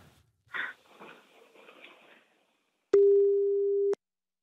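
A telephone ringback tone sounds once as someone is being called, a single steady one-second tone following a short stretch of faint rustling and breathing.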